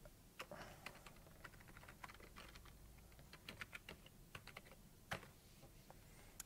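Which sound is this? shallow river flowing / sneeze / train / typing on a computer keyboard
typing on a computer keyboard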